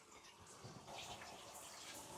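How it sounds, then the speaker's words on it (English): Steady rush of water from an RV shower left running, a continuous gushing spray heard fairly close and quiet, with no talking. "Turn the shower on."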